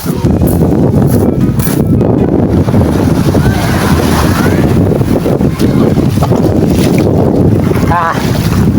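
A boat engine drones steadily on open water near Barangay Oson, with strong wind buffeting the microphone throughout; faint voices may sit underneath.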